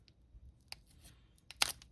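Scissors cutting along the crimped edge of a foil Pokémon card pack: quiet crinkly snips and a crisp tearing crunch near the end, close up, with brief pauses between cuts.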